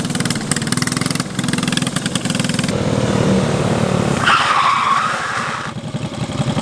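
A drift kart engine runs loud and close, a steady rattling mid-pitched drone that shifts in tone partway through, as if revving or changing load.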